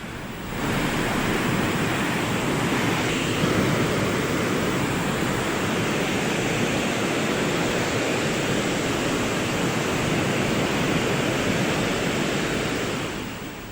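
Water released from the Narayanapura reservoir dam, about 1.16 lakh cusecs, rushes out in a steady, dense roar that stays loud and unbroken throughout, with no voices.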